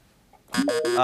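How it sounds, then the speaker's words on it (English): A loud quiz-show buzzer blares in a steady, sustained burst, rising in pitch partway through, after a short quiet moment. "you came late because the buzzer sounded first"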